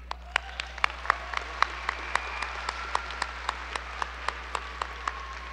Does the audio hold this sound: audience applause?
yes